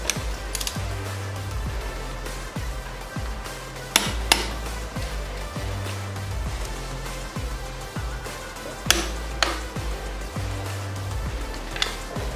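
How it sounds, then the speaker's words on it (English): Torque wrench tightening banjo bolts on a Yamaha YZ125 brake line, with repeated clicking ratchet strokes in a steady rhythm and a few sharper metallic knocks, close and clear with no talking. "I'm going to go ahead and torque our banjo bolts down at 22 foot-pounds"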